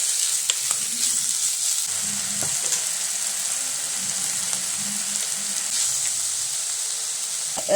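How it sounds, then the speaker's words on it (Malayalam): Crushed shallots, garlic, ginger and green chilli being sautéed for a Kottayam-style red fish curry, giving a continuous close hiss and sizzle with soft stirring and no talking. "വെളുത്തുള്ളി ഇഞ്ചി പച്ചമുളക് ഇതെല്ലാം ഇട്ട് കൊടുക്കാം നല്ലപോലെ വഴറ്റിയെടുക്കണേ"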